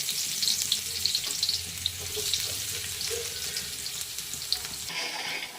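Onions sizzle in a pan with cloves and cardamom for chicken biryani, giving a steady close hiss with small crackles and a clatter near the end.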